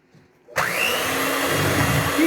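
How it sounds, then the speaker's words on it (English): An electric hand mixer with paddles starts up abruptly and whirs steadily at high speed while beating cake batter in a bowl, a loud, close, continuous motor drone. "Now I'm going to take that bowl back over to my mixer and give it another beating."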